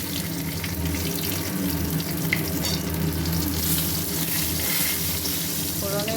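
Cumin seeds sizzle in hot oil for a dal tempering, a loud, continuous frying hiss that holds steady throughout, with a faint crackle here and there.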